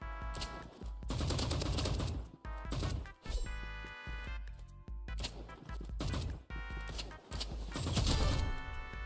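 Rapid gunfire in the Roblox game Rivals, loud rattling bursts of shots in several volleys separated by brief gaps, with music and game effects layered over them.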